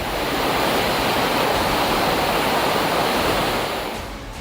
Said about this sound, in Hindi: मंडी कुल्लू नेशनल हाईवे पर ब्यास नदी का जलस्तर बढ़ गया और पानी सड़क पर आ गया।